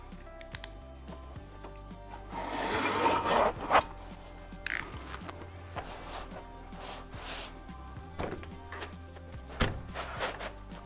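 Pasted wallpaper material is cut and booked by a tapo-fix S series pasting machine: close rustling, rasping and sliding sounds, with a louder flurry of paper handling early on and scattered scrapes and taps afterward.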